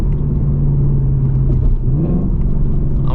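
A car approaches on the road, heard from inside a 2024 Mustang GT whose idling engine gives a loud, steady low rumble, with a faint rising whoosh of the passing vehicle.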